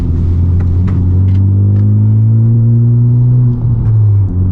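A Honda Civic Type R accelerating hard through a turn, its loud engine drone climbing steadily in pitch with a strong, close rumble and a brief dip near the end, with no voices.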